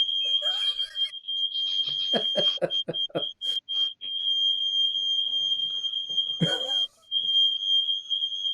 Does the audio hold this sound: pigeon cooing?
no